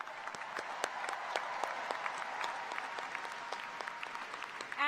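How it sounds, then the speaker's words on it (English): An audience at the University of Washington Bothell 2022 commencement ceremony claps steadily for about five seconds. The applause is dense and even, and it sounds fairly distant. "Another big round of applause for all the master students."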